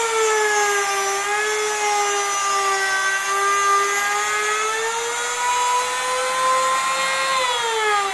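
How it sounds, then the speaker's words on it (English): A plunge saw cuts straight through wood for a pinning tray, giving one loud, sustained, close whine with a bright tonal pitch that drifts slightly over the cut. "we are going to plunge cut straight"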